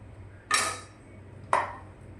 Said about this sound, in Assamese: আমকেইটা এতিয়া সৰু সৰুকৈ টুকুৰা কৰি ল'ম।